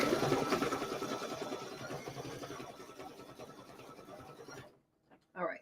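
Sewing machine stitching a quilt wall hanging, a steady close whirring drone that runs continuously and then stops abruptly, followed by a brief mechanical clunk.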